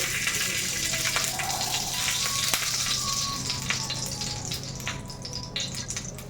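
Bread toast frying in butter in a pan: a steady, even sizzle runs throughout at moderate level, with faint scattered crackles and no talk.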